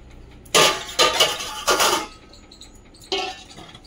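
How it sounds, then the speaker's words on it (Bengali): Chicken meat being chopped into pieces with a knife on a board, a few sharp, close chopping strikes in a quick cluster, a pause, then one more chop. "এবার মাংসগুলো কেটে নেব"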